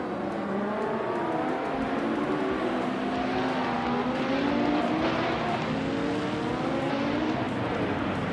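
Race cars including a Porsche 917K and a 1971 Ferrari 512M, with engines droning and rising and falling in pitch as several cars pass, steady and moderately loud.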